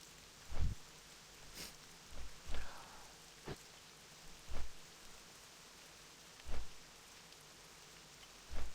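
Steady rain falls in World of Warcraft's Tirisfal Glades, a soft, even hiss with occasional louder patters and drips, fairly quiet and heard alone.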